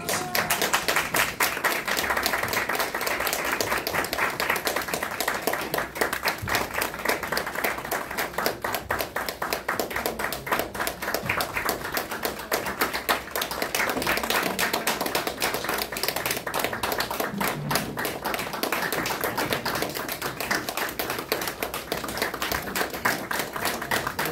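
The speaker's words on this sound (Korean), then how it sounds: "꽃다발 드릴 때 여러분 박수를 보내주면 고맙겠습니다." Sustained, dense applause from an audience at a press conference as flower bouquets are presented, loud and continuous throughout with no pauses.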